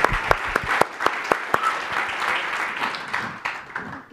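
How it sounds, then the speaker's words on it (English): A studio audience applauds a forum guest, a full round of clapping with sharp individual claps standing out over a dense, steady wash, loud and close, tapering slightly toward the end with no voices over it. "It's a nice round of applause just for you being a friend of mine."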